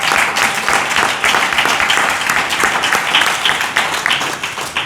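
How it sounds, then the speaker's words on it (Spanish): A crowd breaks into sustained applause at a Holy Week brotherhood talk held at the Real Círculo de Amistad. The clapping is dense and steady, with no voices over it. "A mí me han dado ganas de aplaudirle."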